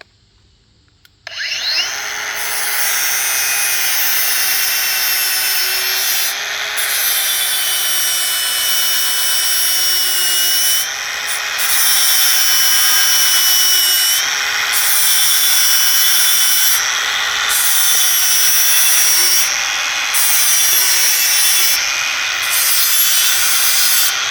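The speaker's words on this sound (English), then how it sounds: "I'm gonna go ahead and sharpen this one" A lawn mower blade is ground on an electric blade sharpener set near 32 degrees, producing a loud, continuous, steady grinding whine that runs without pause and with no voices.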